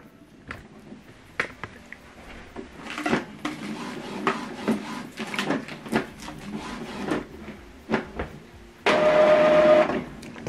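An Epson WF-2950 inkjet printer initializing its ink after a new cartridge install gives off irregular clicks, clunks and mechanical ticks, then a steady whirring motor hum near the end, close and moderate in volume.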